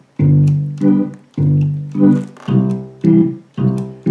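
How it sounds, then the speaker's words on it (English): Roland FR-1X digital accordion in orchestral bass and chord mode, playing an alternating bass note then chord pattern in a steady rhythm of sustained, reedy held tones, close and clear with no talking. "I'm going to turn the orchestra bass and chord on again on this FR1X instrument."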